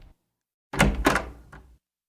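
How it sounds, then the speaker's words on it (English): A door opens with a heavy creak and a couple of solid thumps and rattles, fairly close, with silence around it. "At last, the door opened."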